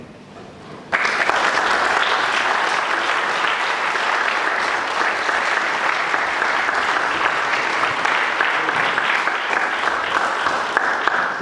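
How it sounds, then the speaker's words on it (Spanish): An audience at a book presentation in Tafí, Argentina breaks into loud, sustained applause after a second of quiet, dense clapping holding steady to the end. "con este aplauso le damos las gracias a Julio"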